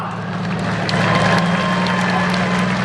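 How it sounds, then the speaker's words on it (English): An audience at a truck and tractor pulling event in Meadville, Pennsylvania claps steadily. The applause sits over a low, constant engine hum for a few seconds. "let's give her a big round of applause"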